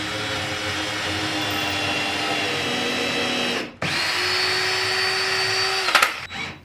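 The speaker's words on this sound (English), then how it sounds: "I held it in place to drill the hole" A power drill whirs steadily while drilling a hole for a branch holder on a yard waste barrel, cuts out briefly, then spins up again at a higher pitch before a short clatter at the end.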